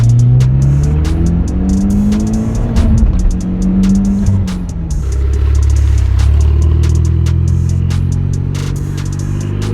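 Mitsubishi Evo X with a straight-pipe exhaust, loud and close, engine revving up and down in rising and falling sweeps with a raspy, crackling edge, then settling into a rough, rumbling idle.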